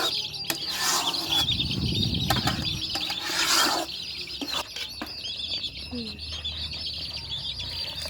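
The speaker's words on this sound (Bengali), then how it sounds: "আমাদের মুরগির ছানাগুলো আগুনের তাপে নিজেদের গা গরম করছে" Young chicken chicks chirp in high, thin peeps beside a cooking fire, with brief louder bursts of crackle and clatter mixed in and a steady background hiss.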